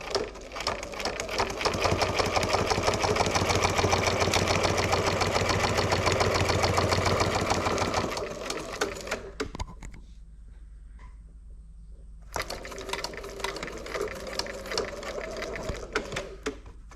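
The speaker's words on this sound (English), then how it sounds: "placed it there under the foot on my sewing machine, and I am just going to do a straight stitch" Domestic sewing machine running a straight stitch on a handmade notebook, a fast, steady mechanical whir for about eight seconds that slows and stops, then a short quiet gap before softer intermittent machine sounds resume.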